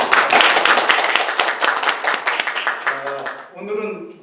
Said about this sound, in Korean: 영광의 박수 드립니다.